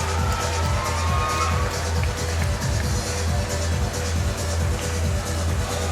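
A fight-night arena crowd at an amateur boxing event cheers and applauds in a dense, continuous roar over a low hum, sustained throughout with no pauses.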